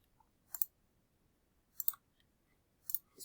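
Three short bursts of sharp computer keyboard clicks, each a quick cluster of two or three keystrokes, spaced about a second apart in an otherwise quiet room.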